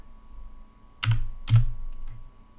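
A couple of clicks on a computer keyboard while a file name is typed, two distinct close key presses over a quiet background hum.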